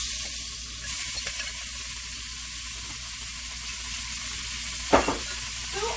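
Ground turkey frying in avocado oil sizzles steadily in a pan, with scattered stirring scrapes and a sharper clatter near the end; no one speaks.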